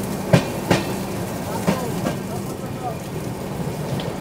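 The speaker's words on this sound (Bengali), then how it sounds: "4 মিনিটের হল্ট দিয়ে ট্রেন এখন ছেড়ে দিল এই পানাগড়" The 13151 Jammu Tawi Express pulls out of Panagarh station in heavy rain, its cars giving a few sharp clanks and then a steady rolling rumble beneath the patter of rain.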